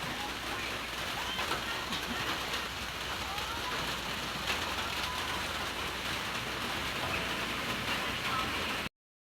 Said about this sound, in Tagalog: Now, grabe ka kusog sa ulan.